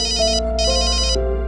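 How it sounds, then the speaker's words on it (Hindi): Electronic phone ringtone in a tense domestic scene, two bursts of a bright warbling ring with a short gap between them, loud and alone with no voices. "एक सेकंड, वो फोन आ रहा है।"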